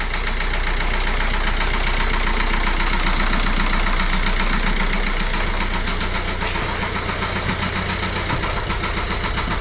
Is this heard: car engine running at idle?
yes